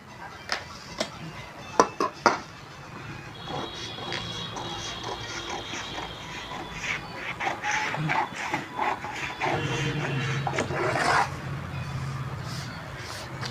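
Scissors snip through fabric while cutting a round neckline for a 38-size prince-cut blouse, with sharp clicks and rustling handling nearby, and a voice talks faintly alongside.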